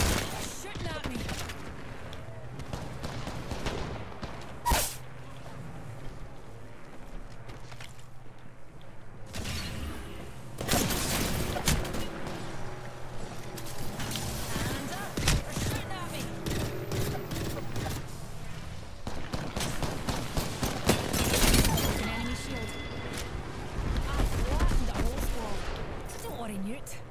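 Video game gunfire rattles in bursts and single shots throughout, mixed with explosions, mechanical clanks and game effects, loud and close, with a person talking over it at times.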